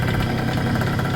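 A motorbike engine idles steadily and loud at close range, a continuous low rumble with a faint knocking pulse and no voices over it.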